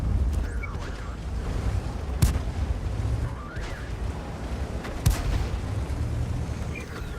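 Artillery fire in World of Tanks comes as two heavy, booming blasts a few seconds apart, set over a rumbling, windy background with faint whistling shells, and no voices.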